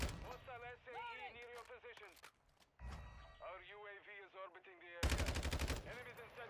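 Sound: gunfire from a video game gun

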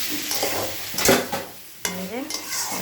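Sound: stirring vegetarian soybean curry in a pan

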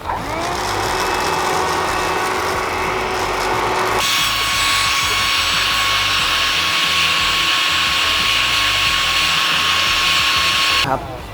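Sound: vacuum cleaner sucking coffee residue out of Anfim Pratica grinder

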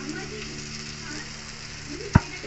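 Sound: tomato paste frying with masala

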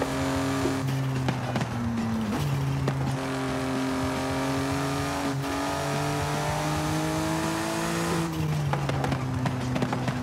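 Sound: BMW i8 car engine in video game Forza Horizon 5

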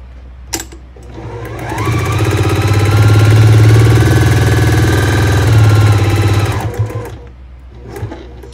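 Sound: sewing machine sewing quilt pieces

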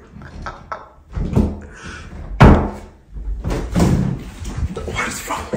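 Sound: door being held shut and banged

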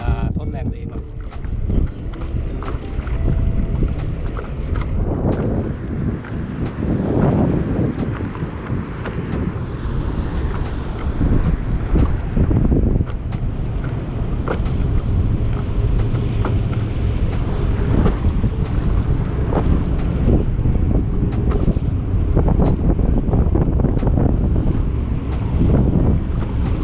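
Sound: stand-up paddleboard paddling at sea in wind

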